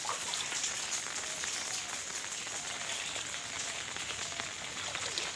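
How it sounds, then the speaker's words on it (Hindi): Light rain pattering steadily onto a flooded street crossing, a continuous close hiss of drops on standing water with no voices. "यहाँ पे अभी बारिश हल्की सी हो गई है।"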